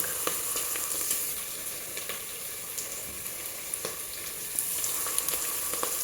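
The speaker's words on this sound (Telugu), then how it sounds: "లైట్గా ఫ్రై చేద్దాం ఫ్రై కానీ next uh, adding this garlic" Garlic frying in a pan with onions for South Indian rasam rice, a steady close sizzle with small crackling pops and faint stirring, no voices.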